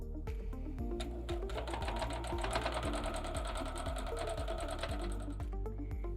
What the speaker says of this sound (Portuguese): E vamos para a máquina passar uma costura reta.